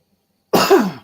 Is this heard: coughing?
yes